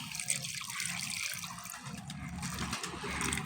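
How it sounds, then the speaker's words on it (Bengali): Water poured into a bowl of poa pitha batter in a home kitchen, a steady close trickle and splash at low level with faint background hum, no talk. "এবারে এর মধ্যে দিয়ে দেবো আমি জল"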